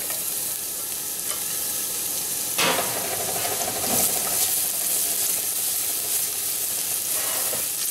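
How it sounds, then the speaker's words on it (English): Minced garlic sizzling in oil in a pan for spinach and mushroom ravioli, a loud continuous hiss with a sudden burst of extra spatter and faint stirring scrapes, no speech. "Throw in the minced garlic."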